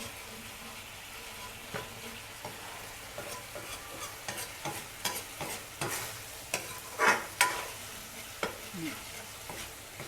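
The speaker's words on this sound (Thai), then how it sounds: "เดี๋ยวให้มันคั่วเดือดๆกะทิแตกมันก่อน" Coconut milk curry with pork bones is stir-fried in a pan, giving a steady sizzle with repeated scraping and stirring strokes that rise in short louder bursts, close up and with no talking.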